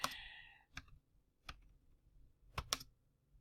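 Keys tapped on a computer keyboard while typing a presentation title, a few sparse clicks spread out and fairly close, with a quiet background between strokes.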